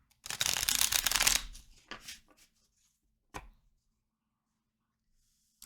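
A deck of tarot cards being shuffled, a dense riffling burst of about a second, then a couple of softer card taps and shuffles, close and quiet with no talk.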